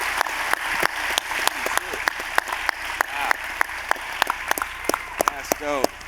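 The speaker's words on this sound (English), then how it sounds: "Let's give him another hand" An audience at an NBA 2K culture event breaks into applause, a loose run of sharp, separate claps at close range, while voices talk and exclaim over the clapping throughout.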